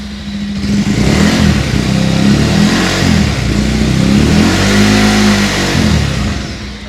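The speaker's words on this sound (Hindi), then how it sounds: "अब हम इसको लगभग रेव आउट करेंगे all the way 5 to 6000 RPM तक।" Close, loud engine of a Bajaj Pulsar 180F BS6 motorcycle revving steadily upward to around 5,000 rpm, a high, strained whine held for several seconds before easing off.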